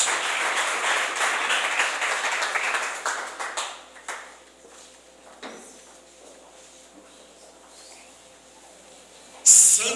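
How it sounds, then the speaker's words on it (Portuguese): Church congregation applauding, brisk clapping for a few seconds that quickly dies away into quiet room sounds, with a sharp noise at the very end. "Volta para o seu lugar aplaudindo o nome do Senhor Jesus Cristo."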